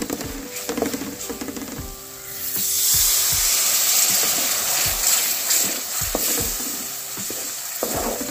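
Tamarind juice poured into a pan of simmering Onam ginger curry (inchi curry) gives a steady sizzle and bubbling patter with soft stirring clinks throughout, with no talking.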